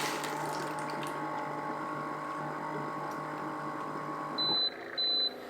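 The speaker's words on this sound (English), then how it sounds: "It'll start to filter out water again there." An Aquibear reverse osmosis water filter pumping and filtering tap water gives a steady mechanical hum with a faint ratcheting texture, ending with two short electronic beeps.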